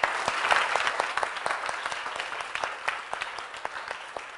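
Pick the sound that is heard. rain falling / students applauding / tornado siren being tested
students applauding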